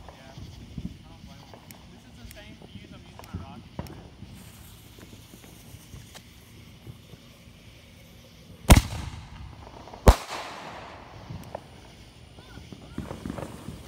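Backyard July 4th fireworks, two sharp loud explosions a second or so apart after a stretch of quieter pops and rustles, with people talking nearby.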